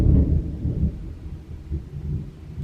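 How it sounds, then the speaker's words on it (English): Low rumble of thunder from a wild thunderstorm outside, a deep rolling murmur that swells and fades, muffled as if heard from indoors. "Now that there is a wild, crazy thunderstorm outside"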